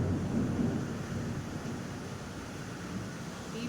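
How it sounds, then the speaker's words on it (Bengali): Heavy rain pours outside a window in a steady, dense hiss with a low rumbling undertone, even and continuous throughout, with no voices. "বিভৎস বৃষ্টি শুরু হয়েছে"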